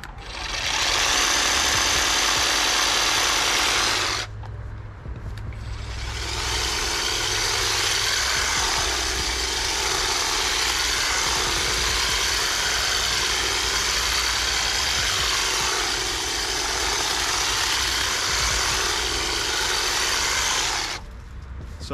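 Toro battery hedge trimmer running in high gear, a loud, close, steady high-pitched whir that runs for about four seconds, dips briefly, then runs continuously for roughly fifteen seconds before stopping, with no talking.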